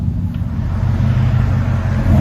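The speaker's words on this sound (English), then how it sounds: "FLOWMASTER Super 10 with 2 resonator deletes and 5-inch tips." RAM 1500 with the 5.7L HEMI V8, Flowmaster Super 10 exhaust, two resonator deletes and 5-inch tips, giving a loud, close, deep rumbling drone that builds slightly over a couple of seconds.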